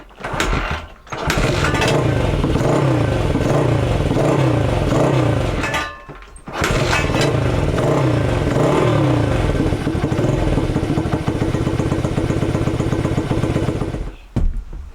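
A 1985 Honda XR80R motorcycle engine runs loud and close at a steady idle with a rough, uneven putter. It cuts out briefly twice, near the start and around six seconds, and then picks back up.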